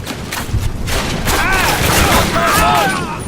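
Suppressing gunfire in Call of Duty 1 comes as loud bursts of shots with booming thumps, mixed under a voice speaking over the battle.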